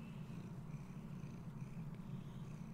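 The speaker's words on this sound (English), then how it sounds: "If you hear the cat purring," A cat purrs steadily close by, a low continuous rumbling hum, soft and unbroken throughout.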